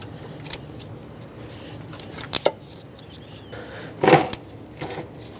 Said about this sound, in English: Just get it to slide past the AC line here.